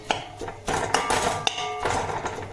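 A metal spatula chops egg kothu chappathi against a pan, producing sharp repeated metallic clanks and scrapes in an uneven rhythm, loud and close.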